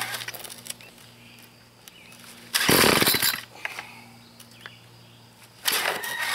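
A rebuilt weed trimmer engine catches in two short bursts of loud, rough revving, each lasting a few seconds before dying back to quiet, with no talking.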